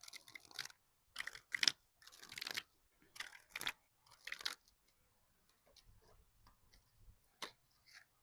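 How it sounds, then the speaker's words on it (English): Several quick papery riffling bursts, a tarot card deck being shuffled close by, separated by short pauses, with softer handling sounds toward the end. "Let's get a better shuffle for that first one."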